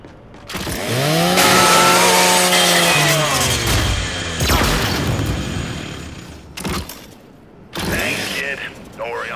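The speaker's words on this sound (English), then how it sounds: "Just use your Lancer's chainsaw." Lancer rifle chainsaw grinding through a custodial robot in the video game Gears 5: a loud, sustained revving whine with metallic scraping and crunching for several seconds, followed by shorter mechanical bursts and clanks.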